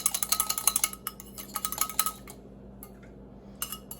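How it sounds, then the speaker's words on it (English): Eggs whisked briefly in a bowl to break them up, making rapid clinking taps of the whisk against the bowl in quick bursts with short pauses, close and clear. "I'm going to whisk them just a little bit, just to break them up."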